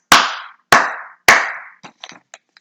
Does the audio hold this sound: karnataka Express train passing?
no